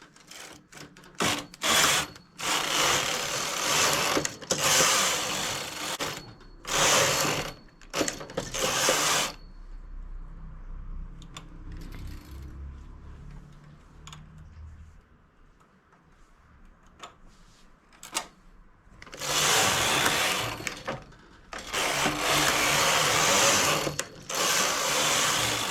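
A flatbed knitting machine carriage being run across several rows for a children's trapeze-style tank top, giving loud bursts of rattling, ratcheting mechanical noise. The bursts are separated by quieter stretches with small clicks and taps.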